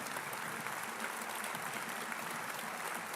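Steady, dense applause from a Liberal Democrats conference audience, an even wash of many clapping hands holding at moderate level throughout with no voices on top.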